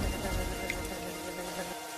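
Steady rain falls through the night in a cold, poor household's surroundings, a dense continuous patter with no voices over it.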